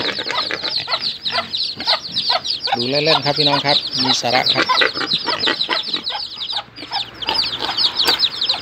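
Fighting cocks on a farm in a pen with rice-husk bedding, clucking and crowing loudly and repeatedly, close by, while someone speaks over them.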